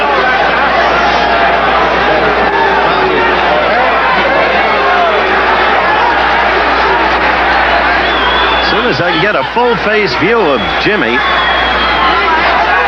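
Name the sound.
boxing arena crowd in unrest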